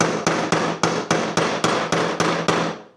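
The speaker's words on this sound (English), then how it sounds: "hammer it through" A hammer strikes a part being driven into a transmission about eleven times in a steady, even rhythm, each close metallic blow ringing briefly before the next, the hits fading slightly toward the end.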